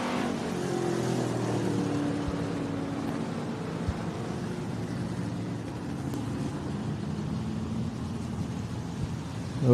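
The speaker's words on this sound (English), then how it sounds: "we've got another car right here on the front straightaway" Street stock race cars run down the front straightaway at Mohave Valley Raceway, a continuous engine roar with rising and falling pitch as they pass, steady and moderately loud, with no speech.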